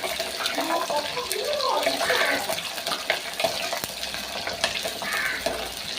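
Whole small shallots sauté in a pan for a tamarind-style curry, with a soft, continuous sizzle and bubbling fry alongside intermittent stirring clatter, moderately close and without talk.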